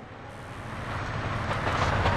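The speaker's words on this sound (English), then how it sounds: "I almost got hit by a train." A train rushes past very close in a video game, a loud broadband roar that swells steadily louder over about two seconds, with no voices.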